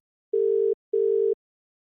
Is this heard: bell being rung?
no